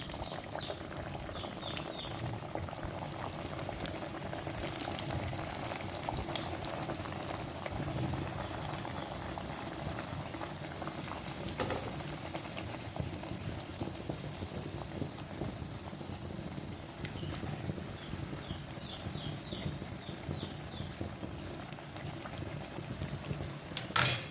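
Puff patties, pastry parcels with a potato filling, bubble and crackle in hot oil, a steady close and fairly loud frying hiss that runs without pause and with no voices.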